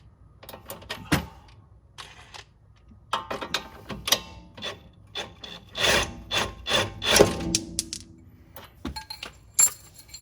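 A 17mm suspension bolt with a 19mm nut is loosened and drawn out of the upper control arm mount on a Lexus LS430, giving close, irregular ratcheting clicks, metallic scraping and knocks that grow busier midway.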